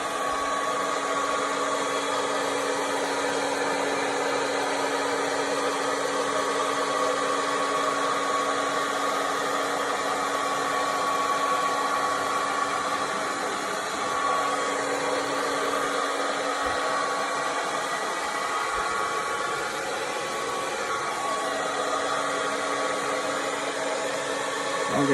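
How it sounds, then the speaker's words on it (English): A hair dryer blows hot air continuously onto shrink wrap with a steady high whirring hiss, close by and unchanging throughout, with no talking. "I'm going to try and continue to do this with this hairdryer rather than going and getting a heat gun."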